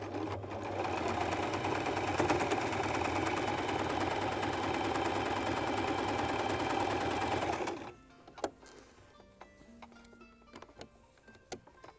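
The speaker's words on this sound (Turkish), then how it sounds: "Bir makine ayağı dikeceksiniz." Sewing machine stitching patchwork quilt blocks in a Turkish mountain-range (Sıradağlar) pattern, running loud and steady for about eight seconds, then stopping, followed by quiet fabric handling and small clicks.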